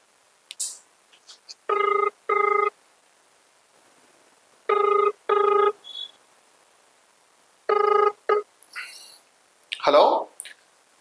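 A telephone rings for a phone-in call to a reporter at Chalmeda Anand Rao hospital in Karimnagar, three paired bursts of electronic trilling spaced a few seconds apart, with brief clicks and a voice near the end.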